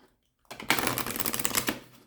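A new, slightly stiff astrology card deck being shuffled by hand: a quick burst of dense riffling clicks starts after a short silence, runs for just over a second and then fades.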